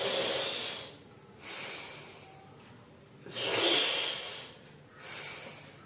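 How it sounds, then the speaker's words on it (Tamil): Air drawn slowly in through a folded tongue during a yogic breathing exercise, long hissing inhalations repeated about four times in a slow rhythm, close and quiet. "நாக்க மடிச்சுட்டு மெதுவா நாக்கம் அடிச்சுக்கோங்க. அந்த ரெண்டு இடுக்குடைய மூச்சை உள்ளழுங்க"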